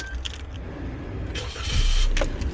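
A 2020 Suzuki Jimny GLX with a 1.5-litre engine cranks and catches, rising into a close, steady idle with a faint metallic jingle early on.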